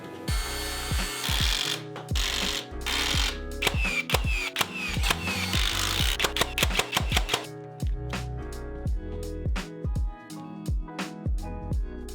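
A power tool drives 4-inch timber lock screws into a deck, a near, repeated whirring burst that climbs and stops again and again in quick succession, with ratcheting clicks between drives.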